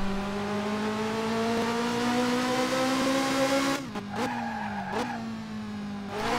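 Ferrari F355 engine from the Dreamcast game F355 Challenge, a steady high whine holding pitch with brief dips around gear changes near the end, loud and continuous with no talk.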